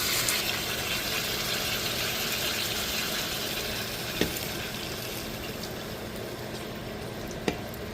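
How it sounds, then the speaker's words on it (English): Water is poured into a cooking pot holding a beef roast and vegetables, giving a steady, rushing splash that runs unbroken at moderate level, with a couple of faint clinks. "So here goes the water now."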